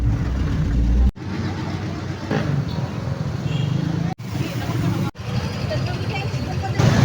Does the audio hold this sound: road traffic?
yes